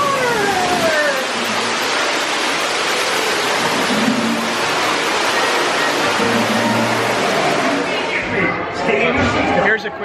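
Roaring cascade of a waterfall inside a Disney ride, a loud, broad, continuous rush lasting throughout, with a voice speaking over it briefly near the end.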